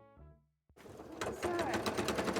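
A sewing machine stitches cosplay fabric, starting after a short pause and running in a steady, close, continuous mechanical whir that builds slightly in loudness.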